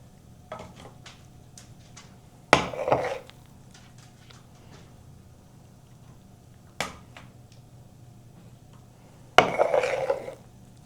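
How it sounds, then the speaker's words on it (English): Cinnamon roll bread pudding mixture is scooped into loaf pans. Three sharp clattering knocks of the scoop against the pans stand out over soft, scattered taps in an otherwise quiet kitchen. "I'm just going to be scooping it so I know about how much I'm getting per loaf pan"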